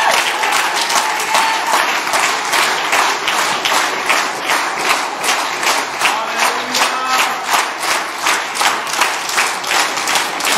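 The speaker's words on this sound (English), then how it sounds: "Why don't you let the devil hear you clap unto the Lord?" A church congregation at a Sunday morning service claps in a strong, steady rhythm, loud, sustained, pulsing handclaps filling the room with crowd noise and little speech.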